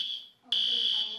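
A fire alarm shrilling in a school during an active shooter training drill: a piercing, steady electronic tone that dips briefly, then blares back loud and sustained, close by.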